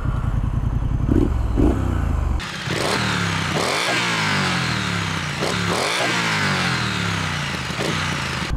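A 2021 Triumph Street Scrambler 900cc motorcycle idles with a loud, close engine chug, then revs repeatedly in rising, falling bursts of throttle, with no talking.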